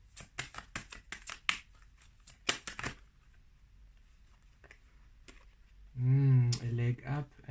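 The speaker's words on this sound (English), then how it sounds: "I think I'm going to pull 3 cards." Tarot cards are shuffled in quick crisp bursts of riffling clicks, close and fairly quiet, then a pause before a voice speaks briefly at the end.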